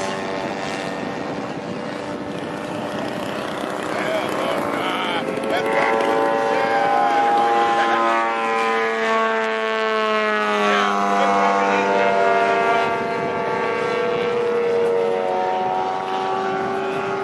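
A large radio-controlled model military warbird flies past at an aeromodelers' fly-in, giving a steady, loud engine drone whose pitch bends and swells as it passes, with talk over the public address.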